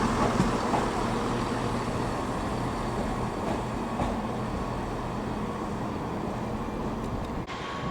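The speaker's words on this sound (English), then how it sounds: "385101 is departing with the 12:45 Scotrail service to Glasgow Queen Street" Scotrail Class 385 electric train 385101 pulling out of Edinburgh Waverley station, a continuous rolling rumble and hum under the station roof, fairly close and steady throughout, with no talk.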